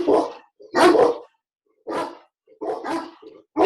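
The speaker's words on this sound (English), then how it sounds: "I gotta deal with dogs now." Several dogs bark in loud bursts, four or five separate volleys with short silent gaps between them, close by and with no one talking over them.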